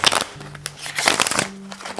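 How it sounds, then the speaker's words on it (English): A Thoth tarot deck is riffle shuffled close up, with a rapid fluttering of cards and sharp snaps, ending in brief soft taps as the cards settle. "I'm still gonna do that, so enjoy the little ASMR"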